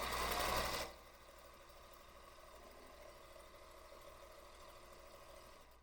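A sewing machine runs continuously while stitching a table runner, a steady close motor hum with a louder rush at the start before settling into an even drone.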